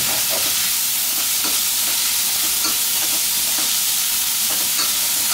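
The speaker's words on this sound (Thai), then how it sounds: "ลองให้กระเทียมเหลืองก่อนนะฮะด้วยขิงนะครับ แล้วก็พริกต้องผัดทีเดียวเลย" Garlic, ginger and chili stir-fry in a pan for a sea bass and celery dish, a loud, continuous close-up sizzle with faint rhythmic stirring scrapes throughout. No one talks.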